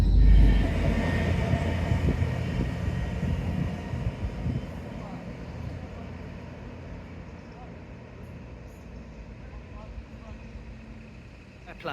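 Steady rumble and rolling noise inside a moving train on the Dawlish line, a broad continuous drone that fades gradually, with a voice talking over it.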